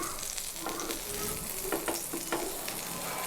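Pav buns roasting golden on a hot pan for Mumbai-style pav bhaji, a continuous close sizzle broken by several short scraping and pressing sounds partway through.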